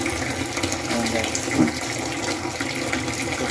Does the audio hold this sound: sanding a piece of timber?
no